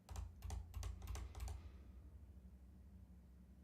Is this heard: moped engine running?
no